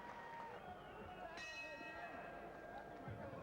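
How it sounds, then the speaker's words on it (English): Boxing bell ringing once to end the 10th round of a 1991 IBF world bantamweight title fight, a bright clang over steady arena crowd noise, briefly ringing out then fading back into the murmur. "there's the bell to end the 10th round"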